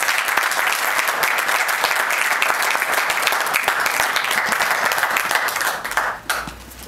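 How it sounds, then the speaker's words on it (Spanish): A large lecture audience claps steadily, dense sustained applause filling the room before tapering off near the end. "Vale, un aplauso"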